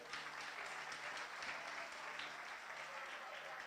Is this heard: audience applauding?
yes